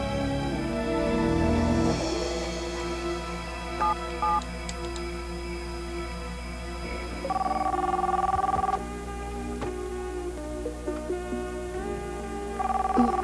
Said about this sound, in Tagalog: Telepono, sagutin mo.